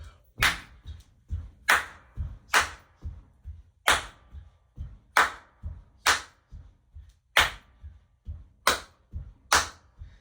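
Sharp hand claps in a steady repeating pattern of grouped beats for a music and dance lesson, loud and close with short quiet gaps between groups and no talk over them.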